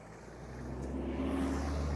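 A car pulls away in slow traffic on a snowy mountain road between Kalam and Mahodand Lake, its low engine hum rising steadily and growing louder over two seconds, with no talk.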